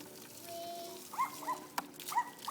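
Dogs bark in a backyard near a patio, a few sharp, fairly close yips and barks coming in quick pairs over a quiet background.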